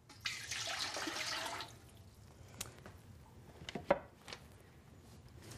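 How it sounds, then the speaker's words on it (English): Water poured from a container into a mixing pot while making soap, a close, steady splashing pour lasting over a second, followed by a few faint drips and small clinks. "take our 4 cups of water and pour this into our mixing pot"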